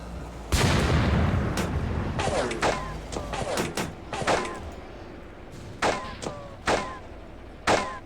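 Tank cannon fire in the Graviteam Tactics combat game, set in the 1943 Third Battle of Kharkov: one loud, booming blast with a long rumbling tail, followed by several sharper, distant gunshots and impacts spaced through the scene.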